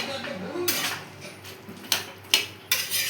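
A utensil scraping and clinking against a pan while stirring a Bengali banana-flower dish (kolar thor ghonto), with soft steady scraping and three or four sharper metallic knocks near the end, close and fairly quiet.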